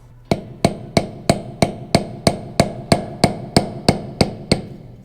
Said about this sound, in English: and hammer it back in.